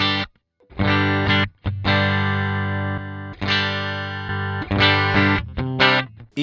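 Electric guitar played through the E-boost effect on a Sonicake Matribox 2 multi-effects unit, bright sustained chords and notes rung out in several phrases, with brief silent breaks between strums.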